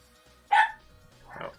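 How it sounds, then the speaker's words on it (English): A pet dog barks once, fairly loud and close, followed a moment later by a softer second bark in an otherwise quiet room. "my dogs are probably gonna go off here"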